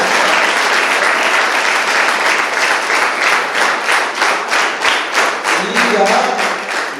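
An audience at a music event and award ceremony applauding, dense sustained clapping from a large crowd that slowly thins and softens toward the end, with a faint voice underneath near the close.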